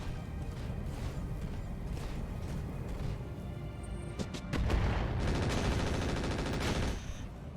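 Rapid gunfire and heavy weapons fire in the BattleTech mod Roguetech, with dense, continuous shooting under a rumbling battle bed that grows louder and more intense in the second half.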